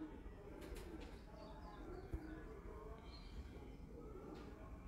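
Kamagar-breed pigeons coo softly at a loft, low murmuring calls set against faint background noise, with an occasional sharp knock.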